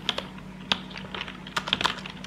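Quick, uneven keystrokes on a computer keyboard, typed in short bursts with brief pauses, close and fairly quiet over a low steady hum, no voices.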